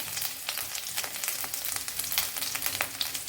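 Ginger garlic paste with crushed cardamom and spices hits hot oil for a vegetable biryani, giving a continuous crackling sizzle with sharp spitting pops, close and moderately loud, with no talking.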